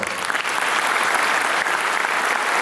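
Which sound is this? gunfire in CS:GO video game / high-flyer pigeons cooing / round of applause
round of applause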